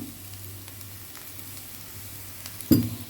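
Onions fry softly in a pan for a keema fatayer snack, a faint steady sizzle with a low hum underneath, ending in one sudden loud clatter near the end.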